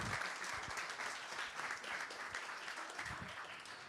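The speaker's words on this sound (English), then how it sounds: "Come on, give it a round of applause." A crowd at a Blackpool FC esports tournament weekend claps continuously in steady applause, moderately loud, with no speech over it.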